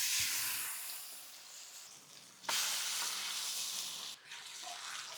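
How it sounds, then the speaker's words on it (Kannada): Silver fish pieces laid into hot oil on a tawa give a steady, close frying sizzle with a sharp crackling flare midway, and no voices are heard. "ಎಣ್ಣೆ ಕಾದ್ಮೇಲೆ ನಿಧಾನವಾಗಿ ಫಿಶ್ ಪೀಸಸ್ನ ತವದ ಮೇಲೆ ಇಡ್ತೀನಿ. ಈ ಸೌಂಡ್ ಕೇಳೋದಕ್ಕೆ ಖುಷಿ ಅಲ್ವಾ?"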